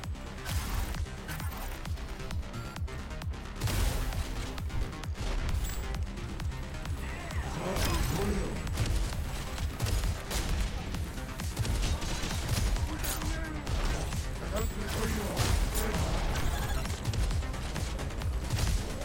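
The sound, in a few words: gunshots triggering barrel explosions in Deadlink video game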